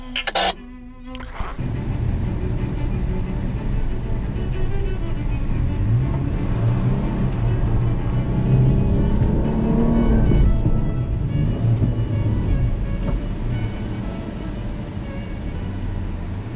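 A green Jeep drives across sand dunes, its engine a steady loud drone that swells and holds for the whole stretch, heard close without talk.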